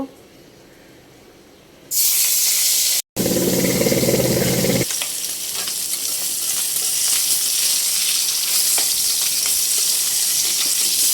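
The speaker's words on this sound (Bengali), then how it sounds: "যে আমার কড়াইটা গরম হয়ে গেছে, এখন আমি মাছটা দিয়ে দিব" Rohu fish hits hot oil in a kadai and bursts into a loud, steady sizzle that carries on to the end, after a quiet start and a short low clatter.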